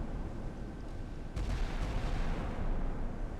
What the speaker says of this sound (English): Yeah, guns are engaging.